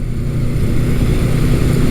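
A vintage middleweight Honda CB550 or Suzuki GS550 four-cylinder motorcycle engine revs moderately up close, a loud, smooth, throbbing burble held steady throughout.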